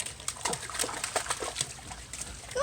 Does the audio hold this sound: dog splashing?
yes